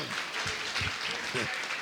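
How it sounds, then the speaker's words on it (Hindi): Audience applause for Anil ji at a religious question-and-answer session with a Jain monk, clapping spread across the room while a voice talks over it. "अनिल जी के लिए तालियां तालियां तालियां"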